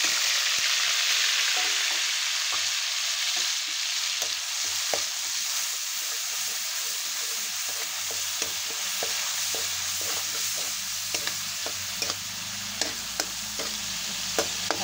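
Ground onion paste sautéing in oil in a kadhai with mustard seeds and cumin for misal: a steady close sizzle with occasional clicks and scrapes of stirring, no voices.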